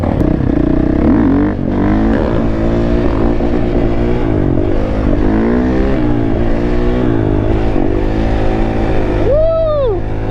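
A GasGas 450 dirt bike engine revs up and down, its pitch rising and falling in loud, close sweeps that climb sharply near the end, with faint voices underneath.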